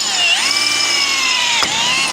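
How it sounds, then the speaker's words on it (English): A power drill bores into a vehicle's bumper, a loud steady whine with a pitch shift near the start and a brief catch near the end, running alone before cutting off. "we're drilling into the bumper on the damn thing"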